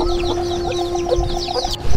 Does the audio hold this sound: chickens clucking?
yes